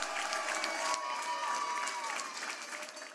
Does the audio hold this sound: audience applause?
yes